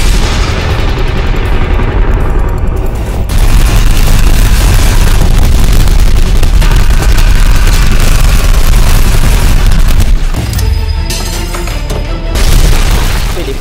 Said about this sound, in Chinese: 手提箱里的炸弹当场爆炸。 男主拿起步枪一顿横扫